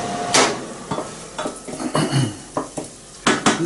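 Onions and garlic cook in a pan while a utensil stirs them, knocking and scraping against the metal in irregular close clatters over a soft sizzle, with no voices.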